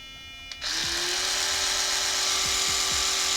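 A SmartSonic+ sonic electric toothbrush starts after a click and hums steadily, a fairly even buzz that runs to the end, with a few faint knocks against it.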